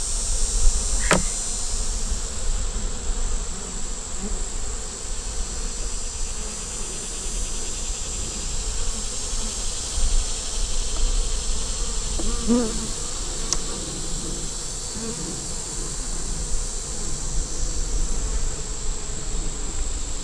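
A steady drone of many bees buzzing close by, continuous throughout, with a couple of faint clicks and small handling knocks.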